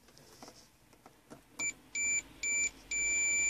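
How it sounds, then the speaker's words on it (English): A voltmeter on a continuity test against ground on a running car emits four close, loud electronic beeps, the last one held longer, after some faint clicks and tapping. "My voltmeter is beeping, which means that the other side is successfully connected to a ground as well."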